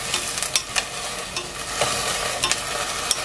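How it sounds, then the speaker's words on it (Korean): Ingredients stir-fried in sesame oil with chili powder make an even, close sizzle, with repeated light scrapes and clicks of a spoon tossing them in the pan. "이렇게 한번 볶아줍니다."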